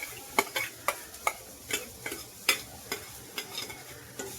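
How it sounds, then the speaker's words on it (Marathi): Quiet stirring of grated radish for parathas in a pan over low gas, with a soft sizzle and a spoon tapping and scraping in a steady, repeated rhythm. "मुळा चांगला आपल्याला परतून घ्यायचा आहे"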